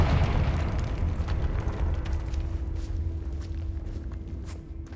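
A Confringo fire spell bursts in the Hogwarts Legacy video game, a loud rumbling explosion with a low booming roar that fades slowly over several seconds, no voices over it.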